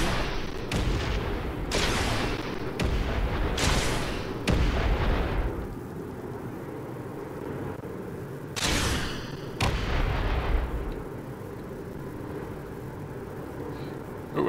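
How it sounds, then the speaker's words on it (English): A series of heavy, booming launches and blasts from rockets fired in Space Engineers, coming in separate bursts with rumbling decay, followed by a lull and two more blasts. "Actually, let's switch to rockets."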